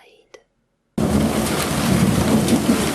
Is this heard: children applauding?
no